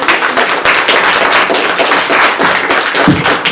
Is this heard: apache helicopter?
no